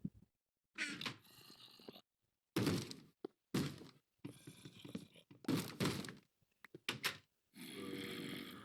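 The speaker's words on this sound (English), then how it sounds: "I see some zombies banging at this door." Zombies bang on a wooden door in Minecraft, several loud hollow thuds in irregular bursts separated by silent gaps, mixed with groaning zombie sounds.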